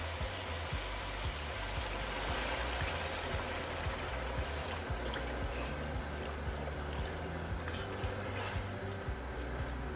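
Water poured into frying masala in a pot during egg kofta cooking gives a continuous hissing sizzle and gentle bubbling, fairly faint and steady, with no talk.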